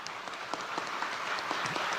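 Thin, scattered applause from a political rally audience in Indonesia, loose uneven claps spread across a short stretch, fairly subdued rather than a full ovation.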